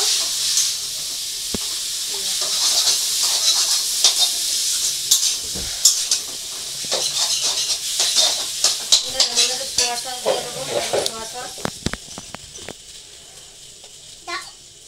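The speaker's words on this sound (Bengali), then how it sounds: "এই দেখো চাউমিনটা দিয়ে দিলাম। একটু নাড়বো।" Chow mein noodles stir-frying in a pan in a village kitchen on a rainy day: a loud, close hissing sizzle with repeated scraping and clanking of the stirring utensil, and a voice speaking briefly over it.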